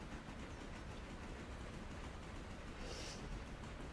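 The big Pacific steam locomotive in the video game Railroader runs as a steady, low rumble with faint rhythmic rail clatter. It is heard from on board the train.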